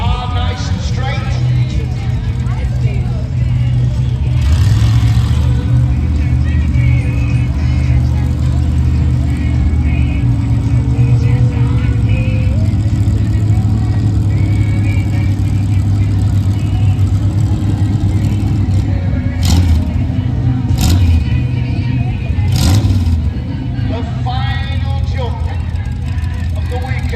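Monster truck engines rev at a live show in Stirling, a loud, continuous low rumble that holds steady throughout with a few sharper bursts of throttle.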